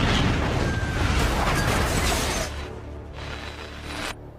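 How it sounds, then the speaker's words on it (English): A racing car in a film blows up at the finish line under gunfire: a loud, dense broadband blast with rolling rumble sustained for about two seconds, then a lower crackling tail and a final burst before cutting off. "Joe's continuous gunfire caused Frank's car to explode just as it crossed the line"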